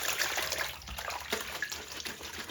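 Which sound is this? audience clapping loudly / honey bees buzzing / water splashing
water splashing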